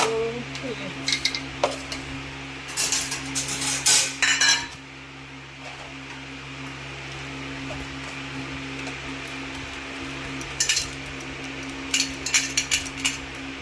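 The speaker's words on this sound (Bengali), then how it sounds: "কড়াইটা বসিয়ে দিচ্ছি, পোলাওর জন্য কড়াই বসিয়ে দিচ্ছি একটা" Metal kadai (wok) being set on a gas stove for pulao, with clustered clanks and scraping rattles of cookware near and fairly loud over a steady burner hum, quieter stretch in the middle.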